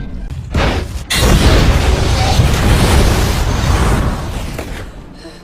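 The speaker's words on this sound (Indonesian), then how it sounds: "masuk ke dalam kapal yang akhirnya meledak" A ship explodes in a film: a loud deep boom erupts into a sustained roaring blast with rumbling debris, slowly fading out, heavy and close.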